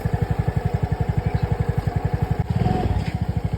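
A motorcycle idling close by, its engine thumping in a fast, even pulse that roughens briefly partway through before settling back.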